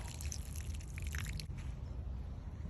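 Water is poured from a can over freshly potted borage in a home garden, giving a soft, steady trickle and splash that fades at about the midpoint, quiet and close with no voices.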